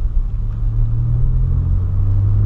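Cabin rumble from a manual car pulling away in second gear, a steady low engine drone with slight rising strain as the throttle opens, close and continuous with no talk.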